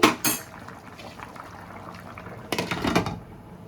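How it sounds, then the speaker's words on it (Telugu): Rice boiling in a pot for mandi, a soft steady bubbling simmer heard close up, with sharp clinks and clatter of a utensil against the pot near the start and again toward the end. "రైస్ మంచిగా బాయిల్ అవుతుంది"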